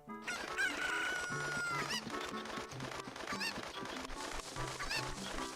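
Cucco chickens cluck, honk and crow in the Zelda: Ocarina of Time video game, a busy overlapping flock of squawks and crows over game music, loud and close, with no talk.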